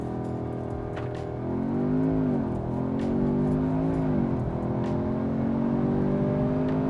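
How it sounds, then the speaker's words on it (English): An Audi S3 launching from a standstill under launch control, the engine droning loudly from inside the cabin and rising and falling in pitch through gear changes as it accelerates hard. "brake all the way down. Launch control activated."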